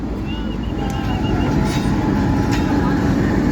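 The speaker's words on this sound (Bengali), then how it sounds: "এই যে দেখেন রেল একটা আসতে আসতে, এই রেলটা যাবে" A train nears a busy level crossing at Joydebpur, Gazipur, as a steady rumble of rail traffic builds under continuous street noise, with faint horn-like tones and people talking nearby.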